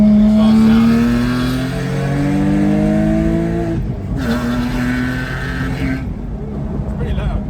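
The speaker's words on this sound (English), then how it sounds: "Now I'm getting on the highway here. Let's see how that exhaust sounds." A Porsche Boxster S with newly installed headers accelerates onto a highway, the exhaust note climbing through gears with rising pitch sweeps and a brief shift gap, loud and close from inside the car.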